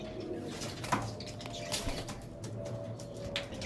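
Pigeons in a loft coo softly in low, rolling calls, mixed with occasional wing flaps and small knocks nearby, at moderate loudness with no speech.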